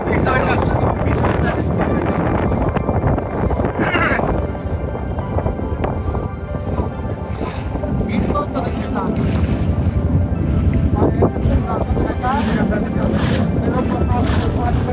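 A boat travels across the open water of Chalan Beel near Patul toward an island village, its steady motor-like rumble and rushing water mixed with constant wind buffeting the microphone, with some talk heard over the noise.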